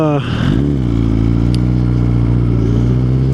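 A 600cc motorcycle rides through the gears, its engine loud and close, with a quick shift near the start followed by a steady rising drone under wind rumble.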